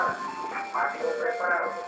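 The tinkling melody of a street ice cream truck jingle plays steadily nearby, mixed with people talking.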